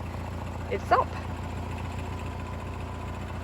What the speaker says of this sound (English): Forgive the car engine in the background